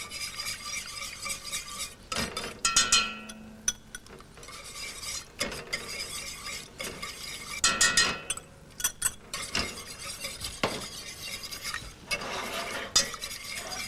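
Butter being whisked into a cream-based shellfish sauce in a pan, with repeated scraping and clinking of the whisk against metal and a soft sizzle under it, the strokes coming in bursts close to the listener.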